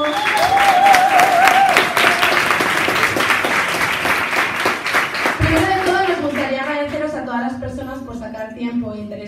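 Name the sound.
audience applause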